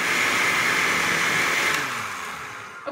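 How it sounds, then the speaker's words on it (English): A kitchen blender running on homemade chorizo ingredients, a loud steady whirring motor drone that gradually winds down and fades near the end. "then you can go ahead and throw all the ingredients together in the blender."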